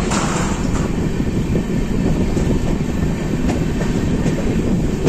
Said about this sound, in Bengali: ট্রেন চলছে ধীর গতিতে